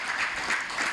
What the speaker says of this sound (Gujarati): જોરદાર તાળીઓથી વધાવીએ આપણે એમને.